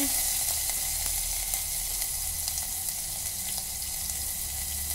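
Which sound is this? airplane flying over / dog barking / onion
onion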